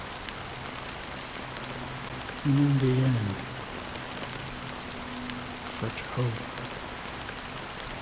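Steady rain hisses evenly throughout a scene in the video game Honkai: Star Rail, while a voice speaks over it in the middle.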